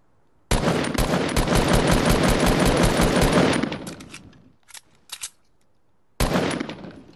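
Close, loud automatic gunfire in the video game Fortnite: a sustained burst of rapid shots lasting about three seconds and trailing off, then a couple of short isolated shots, and a fresh burst near the end.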